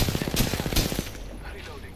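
A rapid burst of automatic gunfire in Apex Legends, loud and close, rattles for about a second and then cuts off, leaving quieter game ambience.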